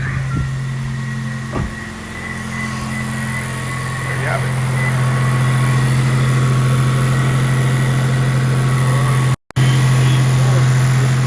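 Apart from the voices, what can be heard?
car engine starting and idling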